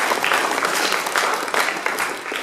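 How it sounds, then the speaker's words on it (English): Audience applause at a school wrestling banquet, a dense, steady wash of many hands clapping close by, loud and sustained throughout with no speech over it. "I think we need to give a round of applause for that as well."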